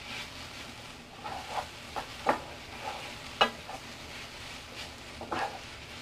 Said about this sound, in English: you don't want to cook this over too high of a heat, because the natural sugars in the sweet potato will start to caramelize and burn